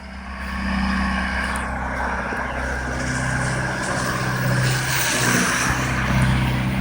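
A John Deere tractor drives through snow after a snowstorm in Hamilton, Ontario, its steady engine drone rumbling close and fairly loud and swelling slightly as it goes by.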